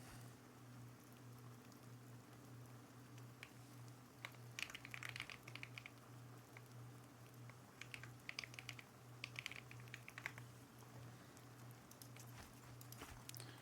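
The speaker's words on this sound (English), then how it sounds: "this keyboard sounds so good" Clicky computer keyboard typed in bursts of rapid clicks, moderately close, over a steady low electrical hum with quiet pauses between runs of keystrokes.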